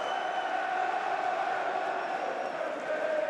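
Portsmouth's home supporters fill the stadium with a steady, loud roar of massed voices during an EFL Championship match against West Bromwich Albion, a continuous crowd wash with no breaks.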